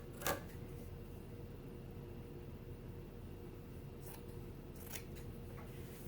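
Scissors snip through a T-shirt fabric while making a bag, with a few faint cuts near the start and around four to five seconds over a steady low hum, quiet and close.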